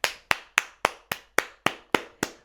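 Nine sharp, evenly spaced hand claps in a steady rhythm, close and fairly quiet with short decays between them.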